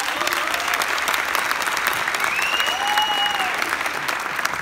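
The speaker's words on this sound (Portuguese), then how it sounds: "Por favor, mais uma salva de palmas para esse casal lindo" A theatre audience at a Jeunesse Global training event gives sustained, dense applause, with a few faint whistles rising above the clapping.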